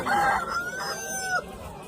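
A rooster crows once, loud and close, a drawn-out call at a poultry sale with faint background noise.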